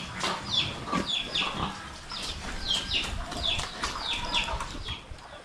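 Chickens kept in a nipa hut on a Philippine farm give repeated high, short chirps and peeps in quick bursts, fairly close, over a soft rustling background.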